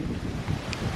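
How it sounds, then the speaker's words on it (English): Steady wind buffeting a microphone outdoors, a continuous low rumble with gusty swells and no voices. "luckily it's windy today"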